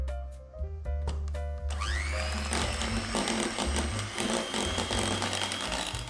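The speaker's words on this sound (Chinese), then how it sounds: "材料里面加入一个全蛋，接着用搅拌器搅拌" Electric mixer whirring steadily as it beats softened butter, white sugar and a whole egg for a tart dough, a continuous close motor drone with shifting pitch as the beaters work through the mixture.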